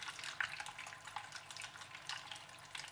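Aquarium water pump on its high setting splashing water, a faint patter of bursts and droplets in uneven rhythm, close and alone.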